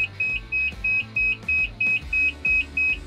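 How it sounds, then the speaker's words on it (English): A steady electronic warning beep repeats about three times per second, sharp and high-pitched, over a low idling engine rumble from a Keestrack K4 or K5 scalper screen machine at startup. "Machine will stop beeping once it's ready to start"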